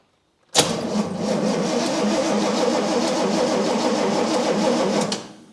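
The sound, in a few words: 1967 Pontiac GTO engine cranking and trying to start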